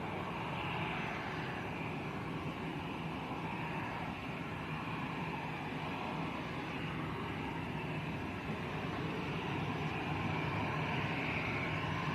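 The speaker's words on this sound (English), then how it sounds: "So Volatea, Airbus A319 going up to Nantes in France." An Airbus A319 airliner takes off from Lanzarote airport, producing a steady, broad engine roar at a moderate distance that holds even and unbroken throughout.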